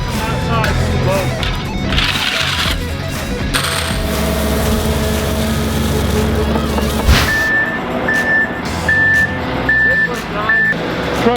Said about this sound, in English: Truck's here, we're ready to pour.